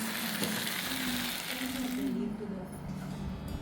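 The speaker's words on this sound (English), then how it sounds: "This is how it sizzles." Loud, steady sizzling of a sizzler frying on a hot plate, a continuous crackling hiss with faint background voices.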